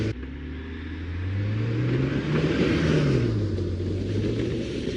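A Honda 300ex ATV engine revs hard through a reverse donut, a loud, close, sustained roar that swells in pitch and dips again over several seconds, with no voices over it.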